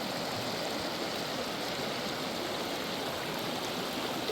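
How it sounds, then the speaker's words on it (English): The Williams River in West Virginia flows in the rain, giving a steady, even wash of rushing water and rainfall, soft and unbroken, with no voices. "Fishing on the Williams River in West Virginia in the rain."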